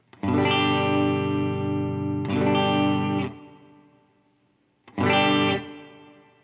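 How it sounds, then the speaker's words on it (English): Three distorted electric guitar chords ring out one after another, each trailing off in a long, spacious reverb tail. "here's reverb on the expression pedal"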